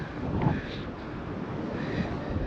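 Wind buffets the microphone in a steady low rumble with a faint hiss at an ancient castle in Cagliari, Sardinia, no talking.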